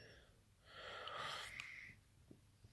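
A sleeping bullmastiff gives one long, wheezy snore up close in a quiet room, rising and then fading, followed by a couple of soft clicks.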